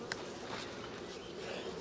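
Honey bees buzz steadily around hive boxes in a large colony, a faint continuous drone close by with no talking.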